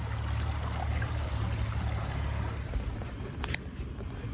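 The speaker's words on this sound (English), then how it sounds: "enjoy listening to the water run" A small stream of running water trickles steadily outdoors, a constant close wash of water noise. A faint brief click or knock is heard near the end, and no one speaks.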